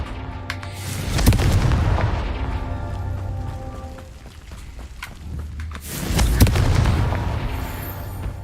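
The Confringo fire spell in Hogwarts Legacy sets off two heavy, booming explosions several seconds apart, each a loud burst that rumbles and fades before the next.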